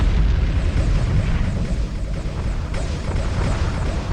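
Plasma fire and explosions in the Homeworld 2 Stargate space-conflict mod, Goa'uld side: a dense, continuous roar of booming blasts and bursts that stays loud and close for the whole stretch.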